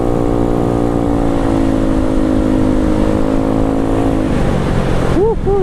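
Close and loud, a Yamaha Mio scooter fitted with a Kenochi aftermarket exhaust holds a raspy, steady drone, then a few quick throttle blips make the pitch rise and fall near the end.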